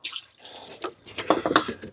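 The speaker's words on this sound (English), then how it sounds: "we're going to top these batteries all off with some water" Water is poured from a container into the cells of old 2008 8-volt golf cart batteries on a Club Car DS, giving close trickling, dripping and splashing that grows busier and louder toward the end.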